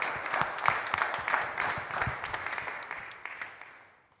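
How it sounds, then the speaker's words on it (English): An audience applauds after a performance at an event, a spread of scattered claps that starts moderately loud and fades away toward the end. "I would like to ask a big round of applause for them."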